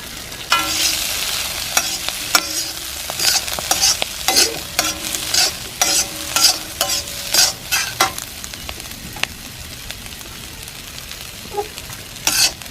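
Beef and vegetables stir-fry in a pan with a steady sizzle, broken by repeated sharp scrapes and clacks of a spatula tossing the food, close and fairly loud with no talking.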